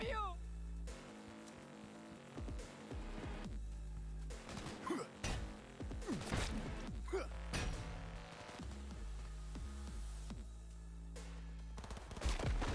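Sharp gunshots crack repeatedly in scattered bursts in Cyberpunk 2077, some in quick succession, against a steady low hum and occasional clattering effects.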